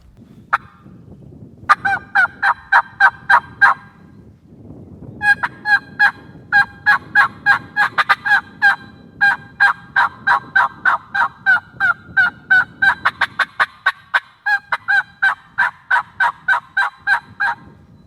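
Rapid runs of turkey yelps made with a mouth turkey call, loud and close, delivered in rhythmic bursts of several notes with short pauses between series; a human voice imitating the bird.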